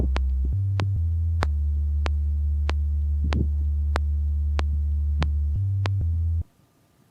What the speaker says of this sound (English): Lastly, I'll record the bass, a simple but complementary one.